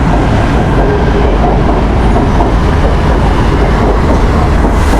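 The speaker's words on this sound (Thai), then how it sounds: "นี่คือไทยแลนด์นะครับรถไฟฟ้าอย่างใกล้ชิดเลยนะครับ" A Bangkok BTS Skytrain passes very close, giving a loud, continuous rumble with rolling wheel noise throughout.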